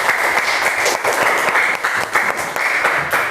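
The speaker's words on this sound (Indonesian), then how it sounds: "Kasih tepuk tangan dong." Classroom applause from a group of students, steady dense clapping close by and fairly loud throughout, with no talk over it.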